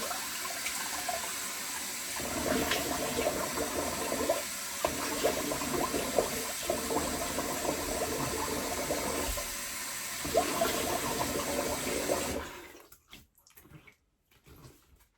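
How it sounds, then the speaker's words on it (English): Cold tap water runs steadily from a faucet into a sink for rinsing after a wet shave, a continuous close splashing flow that stops abruptly near the end, leaving brief quiet handling noises. "We'll get some cold water on the go."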